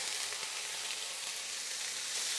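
Beef sizzles and crackles steadily in a hot pan, a bright continuous hiss with scattered pops, fairly close.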